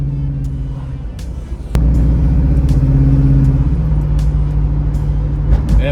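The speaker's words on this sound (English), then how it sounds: "Not too bad for a little old small block Chevrolet." The small block Chevrolet V8 in a 1978 Camaro runs with a deep, steady rumbling drone that jumps abruptly louder partway through and then holds a strong, even throb close by.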